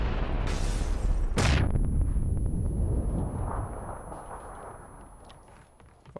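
A grenade goes off in PUBG: one loud, close blast follows a short earlier burst, then a rumbling tail fades out over several seconds.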